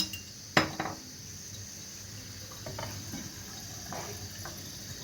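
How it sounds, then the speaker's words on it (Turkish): Water is poured into a pot of eggplant meatball stew in a home kitchen. A sharp metallic clank opens the pour, which runs as a faint trickle, and a few light clinks follow. "Şöyle bismillah diyelim suyumuzu ekleyelim"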